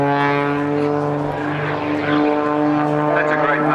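Edge 540 aerobatic plane with a Rudy's Aero Engines engine at the Tyabb Airshow, a loud, sustained propeller drone with strong harmonic whine that swells and dips, a commentator talking over it.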